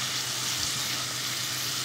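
Tadka of spices and fenugreek leaves frying in a pan with a splash of water for sweet corn curry, a steady soft hiss and crackle of sizzling oil, continuous and close.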